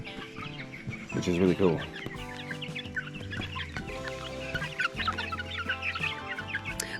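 Month-old chicks cluck and peep continuously close by, with soft chirps overlapping, while a person speaks briefly over them.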